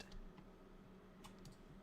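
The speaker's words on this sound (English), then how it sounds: "Can you hear Ian typing too" Soft, quiet clicks of someone typing on a keyboard in a small home office, with a few sharper keystrokes near the end over a low steady room hum.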